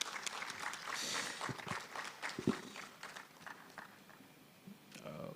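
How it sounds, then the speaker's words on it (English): A conference audience at the Deep Learning Indaba claps for an award winner, a thin scattered applause with individual claps audible, fading toward the end. "let's clap for our winner"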